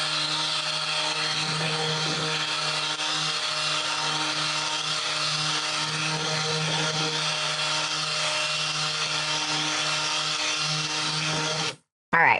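Stick blender whirring steadily through lavender tallow soap batter, a continuous motorized hum with a low drone holding for most of the stretch before cutting off abruptly near the end; faint voices murmur underneath.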